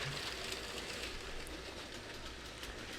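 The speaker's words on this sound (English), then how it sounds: "it just has no problem towing this big long train around the track" A motorized LEGO train tows a long string of cars around its track at full speed, giving a steady rolling clickety-clack of wheels and a continuous motor hum, with no talking.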